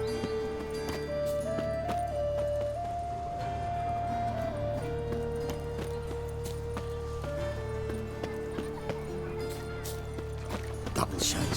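A horse's hooves clip-clop in a steady gallop in The Witcher 3 video game, heard under a sustained musical drone and other game sounds.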